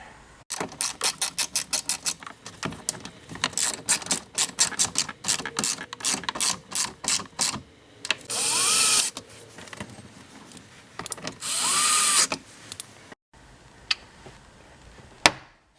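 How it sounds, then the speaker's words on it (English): A 10 mm nut and screws go back onto a 2003 Ford F-150 rear door: rapid, close ratchet clicks repeat in quick runs, broken by two short whirring bursts of a power driver. "And now we're going to put our 10mm nut on. We'll put our 2 screws in"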